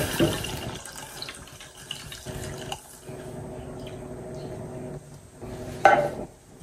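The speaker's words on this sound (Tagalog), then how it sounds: "lagyan na natin yung ating evap" Evaporated milk pours into a butter and flour roux in a pan, a soft continuous liquid stream with faint clinks of the pan and utensils.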